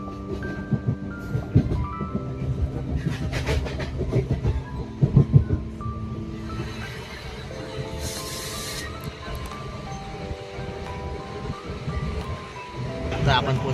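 A train rolls into Palghar railway station in Maharashtra, a steady rumble with rail clatter and a brief hiss of air, while voices talk in the background throughout.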